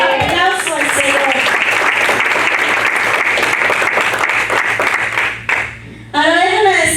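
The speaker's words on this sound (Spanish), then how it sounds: "¿Cuánto le dan un aplauso al Señor?" A church congregation claps loudly and steadily at a Sunday service, with a brief dip near the end before the clapping surges again and a voice joins in.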